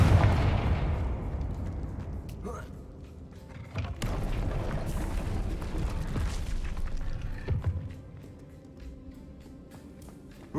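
Confringo spell blasts in the Hogwarts Legacy video game: a few heavy booming explosions spaced several seconds apart, each trailing into rumbling, crackling debris noise with no voices.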